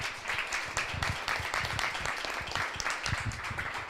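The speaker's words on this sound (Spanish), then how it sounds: "un aplauso para ellos" An audience at a forestry bioeconomy workshop claps steadily in a dense, continuous round of applause that holds at an even loudness for several seconds, with no one speaking.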